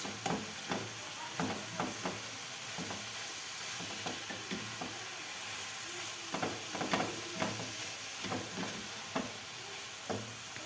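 A spoon stirs spinach and minced-meat filling in a sizzling pan, scraping in short repeated strokes over a steady frying hiss, close and alone with no talk.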